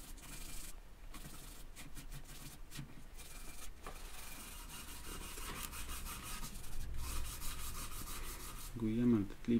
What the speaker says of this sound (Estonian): Lihvin tila pealt ära need tina üleliigsed jäägid.